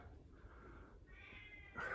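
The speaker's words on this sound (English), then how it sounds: "That's the cat that hates me." An indoor cat meows faintly at a distance, its drawn-out, wavering cries rising toward a slightly louder final call, with no talking.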